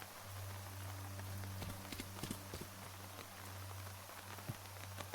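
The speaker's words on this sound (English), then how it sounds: "Well, it's raining on this tile," Rain falls in the video game Terminus Zombie Survivors as a steady patter of drops, with scattered sharper taps and a low steady hum underneath.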